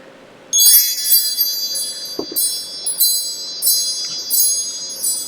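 Wind chimes ring in bright, shimmering clusters that start abruptly and keep tinkling in waves, close and fairly loud, heard alone in a quiet room at the start of a tarot reading.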